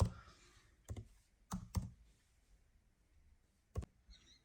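Scattered keystrokes tap on a computer keyboard while card payment details are entered, a few sharp clicks in small clusters separated by quiet pauses, faint and close.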